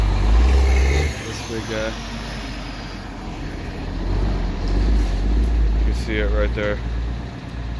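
A running John Deere minitruck engine chugs steadily up close, with a low rumble under someone talking over it throughout.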